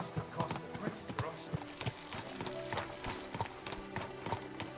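Horse hooves clip-clopping steadily on a path in Kingdom Come Deliverance 2, a continuous rhythmic trot with an occasional whinny, heard under a man's speech and background game music.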